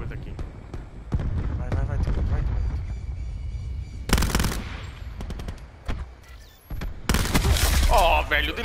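Gunfire in Call of Duty Black Ops 4 comes as sharp bursts and bangs with loud clusters near the middle and end. A player talks over the game audio throughout.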